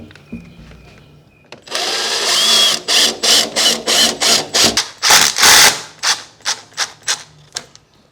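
Power drill driving a screw into a stud through a window frame during a window replacement, a sustained whir followed by a rapid series of short trigger bursts, loud and close.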